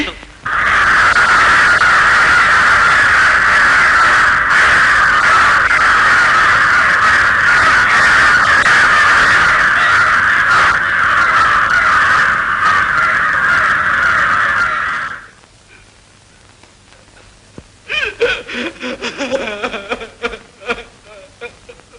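Crows caw loudly and almost without pause in a bird-filled outdoor scene from the Malayalam film Kodiyettam. The harsh calls dominate for about fifteen seconds, then give way to quieter, scattered sounds.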